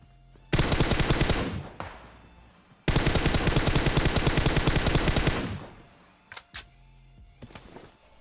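Rapid automatic gunfire in the video game PUBG: two long, loud, close bursts of several seconds each, followed by a few short scattered shots, with no talking.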